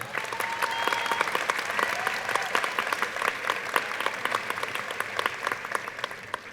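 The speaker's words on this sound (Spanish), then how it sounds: "Démosles un fuerte aplauso." Sustained applause from an audience at a panel forum, dense and continuous clapping filling the room for several seconds, no voices over it.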